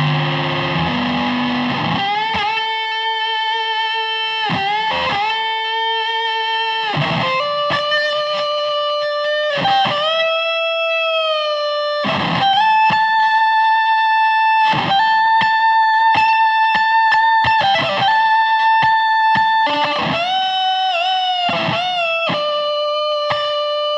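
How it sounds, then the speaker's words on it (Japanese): An electric guitar plays through a Variac fuzz compressed by a Dyna Comp pedal, giving a loud, thick, sustained distorted tone. Held bending notes and short picked phrases run continuously and evenly, with no talking. "ここで高段につないだダイナコンプをオンにして、バリアックファズを圧縮した音色を試していきたいと思います。"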